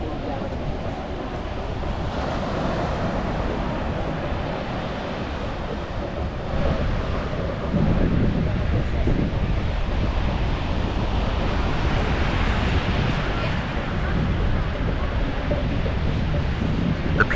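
Ocean waves at Bondi Beach in the evening, a continuous wash of surf that swells and recedes, mixed with wind buffeting the microphone.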